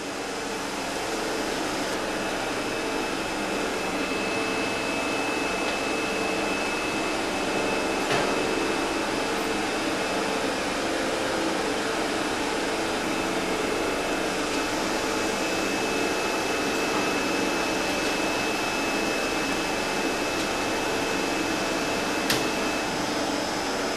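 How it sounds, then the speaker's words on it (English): The suction motor of a work table runs with a steady, loud, even whoosh and hum, unchanging throughout, with a faint high whine over it and a few small clicks. "suction motor."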